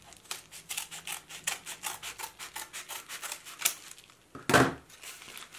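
Repeated crisp snipping and rubbing strokes of scissors cutting open a fingerboard package, in an uneven rhythm, with one louder crackling rustle near the end.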